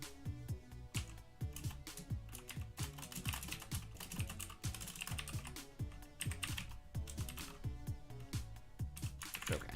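Computer keyboard keys tapped in a steady, busy rhythm while coding a neural network in C++, close and continuous for the whole stretch with no talk.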